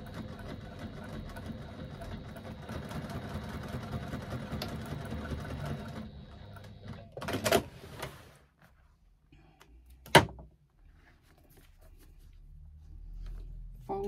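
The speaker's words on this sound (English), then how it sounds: "Stitching at an eighth of an inch." A sewing machine stitches fabric with a grommet at an eighth-inch seam, running with a fast steady whir for about seven seconds, close and moderately loud, then stopping before a couple of sharp clicks and handling knocks.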